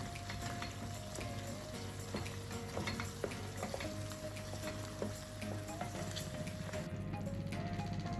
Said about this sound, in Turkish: bir yemek kaşığı biber, biber salçası, bir yemek kaşığı da domates salçası ilave ediyorum. Ve kavurmaya devam ediyorum.